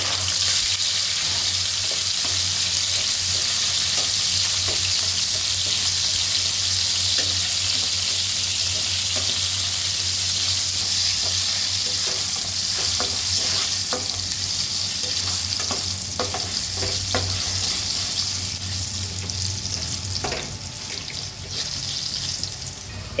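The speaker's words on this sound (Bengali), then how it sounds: "এবার একটি প্যান নিয়ে তাতে 4 টেবিল চামচ তেল গরম করে আধা চা চামচ মেথি, আধা চা চামচ কালো জিরা" Garlic and onion frying with fenugreek, nigella and cumin seeds in hot oil in a pan, a steady close sizzle throughout with occasional stirring clicks and scrapes, no voices.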